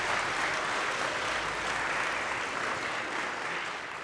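A college chapel audience claps in a dense, sustained wash of applause that holds steady throughout and eases slightly at the end.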